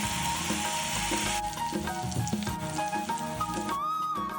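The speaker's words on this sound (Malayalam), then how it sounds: "ഫിഷിന്റെ പെർഫെക്റ്റ് ടേസ്റ്റ് കിട്ടാനായി വളരെ കുറഞ്ഞ അളവിൽ മുളക് പൊടിയും മഞ്ഞൾപ്പൊടിയും ഉപ്പും കറിവേപ്പിലയും ചേർത്ത് വെളിച്ചെണ്ണയിലാണ് വറുത്തെടുക്കുന്നത്" Fish seasoned with chilli powder, turmeric, salt and curry leaves fries in coconut oil, giving a dense, continuous sizzle with bubbling crackle and a brief stir near the end.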